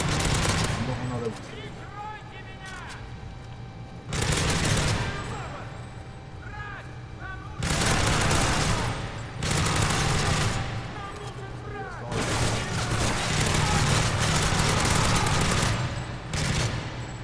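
Bursts of gunfire from a war video game, fired at armored enemies, come in several loud volleys separated by short gaps, each burst dense and rattling over a steady low background hum.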